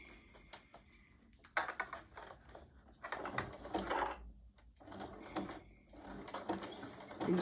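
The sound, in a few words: sewing machine with walking foot sewing a candle mat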